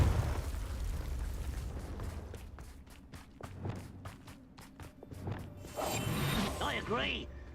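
Bombarda blast spell cast in Hogwarts Legacy, heard as a series of sharp bursts and whooshing impacts over a dense game soundscape, with voices speaking at times.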